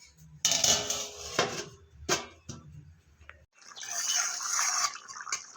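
Pot lid set down during chicken kosha cooking with potatoes: several sharp metallic clatters and knocks close by, followed by a steady hiss of simmering under the covered pot.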